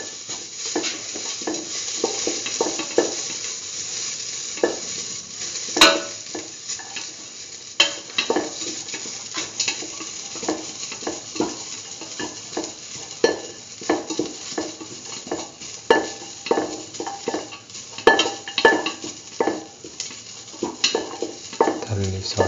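Food for a potato and chickpea-flour sandwich is sautéed in a pan with continuous stirring, producing a steady sizzle broken by frequent scraping and clinking of a utensil against the pan, close and fairly loud.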